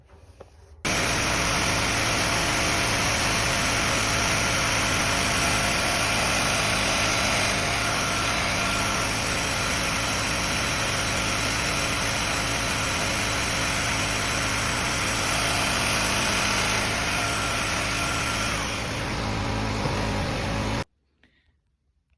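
Festool Domino XL joiner running for about twenty seconds, a loud, steady, high-pitched motor whine with a broad hiss that starts and cuts off abruptly, close up and with no talk.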